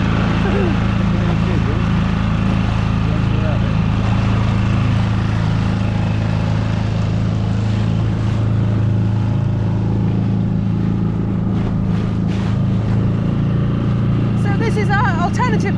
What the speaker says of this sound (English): This is our dinghy and outboard, and we're heading into the marina to check in.